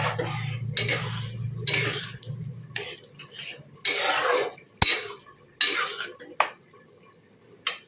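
A spoon stirs and clanks against a cooking pot with water in it, egg stuck to the sides, in separate loud scraping bursts and sharp clinks with pauses between them.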